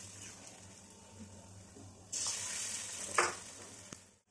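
Eggs sizzle in mustard oil in a wok, a quiet, steady frying hiss that jumps louder midway as more egg goes into the hot oil, with a brief spatter burst near the end.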